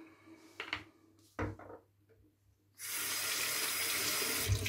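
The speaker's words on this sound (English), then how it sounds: "I'm gonna water my face." Tap water splashes into a sink during face washing, a few close handling knocks and splashes before the faucet opens into a steady, loud rush.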